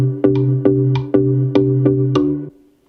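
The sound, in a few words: GarageBand melody with swing quantization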